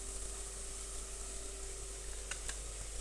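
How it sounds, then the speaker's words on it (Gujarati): Tempering (vaghar) sizzles in hot oil for a dal vegetable dish: a steady, even hiss with a low hum beneath and two sharp clicks near the end, no voices. "તેને આપણે જો વઘાર લીધું છે, તો કેટલો મસ્ત વઘાર છે."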